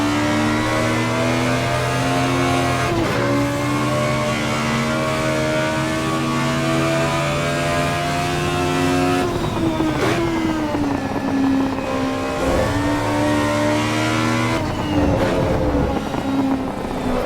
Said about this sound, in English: isn't it great to have a car that you keep hitting the rev limiter because it sounds so damn good?